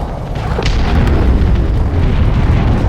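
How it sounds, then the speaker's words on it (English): A flashbang missile explosion in the Starsector space game with the UAF mod: a loud, sustained booming roar that swells within the first half second and rumbles on without letting up. "Flashbang."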